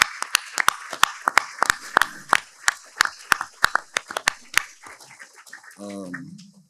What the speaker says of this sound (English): everyone give a round of applause for Mr.